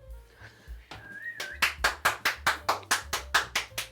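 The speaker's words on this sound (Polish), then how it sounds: "Brawa dla mnie, możesz bić, brawo." A cook applauding after making a quick chicken breast dish, first a short whistle, then a run of about ten sharp, evenly spaced hand claps, close and clear.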